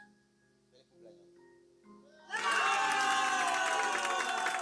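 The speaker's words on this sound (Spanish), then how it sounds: "¡Ah, los aplausos, señores!" After a quiet pause with faint murmurs, a small crowd at a surprise birthday serenade bursts into loud, sustained clapping and cheering, with whoops and children's shouts mixed in close by.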